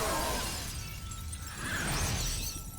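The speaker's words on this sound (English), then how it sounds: "the broken glass" Glass shatters in a scene from the TV show Supernatural. The crash is loud and bright, and a dense spray of breaking fragments fills the whole stretch under the noisy background.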